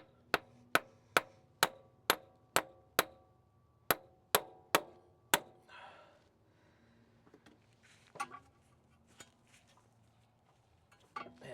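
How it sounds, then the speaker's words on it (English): A hammer lightly taps a front CV axle into place on a Mitsubishi RVR, about a dozen sharp metallic knocks in an even rhythm with a short pause, followed by quieter clinks and shuffling. "The idea here is to get a hammer and lightly"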